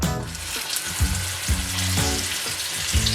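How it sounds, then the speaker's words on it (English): Meat sizzles loudly in browned butter in a casserole, a continuous close frying hiss with a few soft clinks and stirring bumps, no talk. "Hear that sizzle? Fantastic. Okay. So that's exactly what you want to hear, that absolutely beautiful sizzle."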